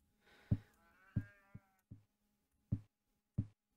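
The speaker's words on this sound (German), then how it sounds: "Es hat sich hier gerade stark nach einem Schaf angehört." A sheep bleats in the horror game I'm on Observation Duty 3: one wavering, drawn-out bleat, then a series of sharp, heavy thuds spaced across the rest of the quiet moment.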